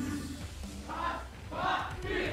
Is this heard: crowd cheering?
yes